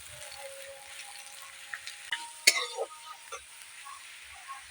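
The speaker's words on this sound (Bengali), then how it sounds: "দিয়ে দিচ্ছি কড়াইয়ে সরষের তেল। তেল গরম হয়ে গেছে, দিয়ে দিচ্ছি পেঁয়াজ কুচি" Chopped onion drops into hot mustard oil in a wok for a vegetable momo filling, giving a soft, fairly quiet sizzle with a sharp burst of crackle midway and a few scattered clicks.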